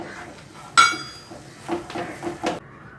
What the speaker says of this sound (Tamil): இப்போ அந்த கடலை மாவை நல்ல வாசனை வர அளவுக்கு வறுத்துக்கலாம் நல்லா.